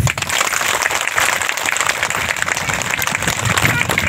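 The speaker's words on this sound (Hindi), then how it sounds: "इसके लिए ताली बजा दीजिए" Audience applause at a Hindi talk: a dense, continuous wash of many hands clapping, steady and fairly loud throughout, with no words spoken over it.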